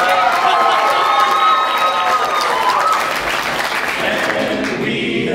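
A school audience at a Parma High School fundraiser performance bursts into loud, sustained applause with cheering, a dense wash of clapping that fills the whole stretch and eases slightly toward the end.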